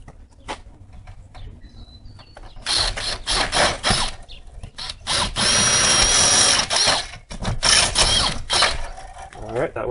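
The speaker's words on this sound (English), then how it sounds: "So I'm going to pre-drill with a masonry bit through the stucco." Masonry bit drilling through exterior stucco for screw holes: loud grinding bursts start and stop, then one long sustained bore through the wall, with a few brief voice sounds.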